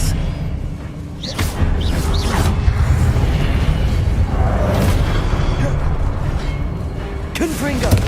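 Confringo fire-blast spells in a Hogwarts Legacy battle: several booming impacts and whooshes over a constant low rumble of combat, with a voice calling out now and then.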